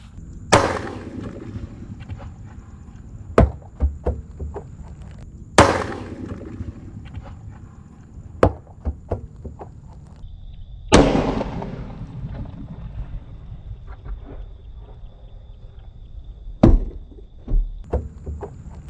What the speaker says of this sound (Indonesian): Ada mercon Thunder Blaze di dalam tong biru jumbo ini.